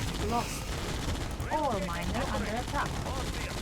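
Gunfire bursts from a Red Alert style real-time strategy game with Soviet units and tanks, rapid crackling volleys under a player's excited shouting, dense and continuous throughout.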